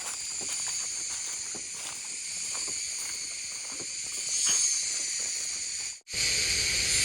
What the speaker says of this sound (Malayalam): ഈ കാട്ടിലൂടെ യാത്ര ചെയ്യുമ്പോൾ ചീവീടിൻ്റെ ശബ്ദമാണ് ഏറ്റവും നമുക്കൊരു ഒരു ഫീലിംഗ് തരുന്നത്